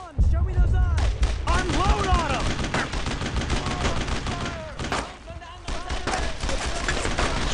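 Heavy suppressing gunfire in the World War II video game Brothers in Arms, with rapid overlapping rifle and machine-gun bursts cracking almost nonstop at close range, a brief lull midway, and shouted voices among the shots.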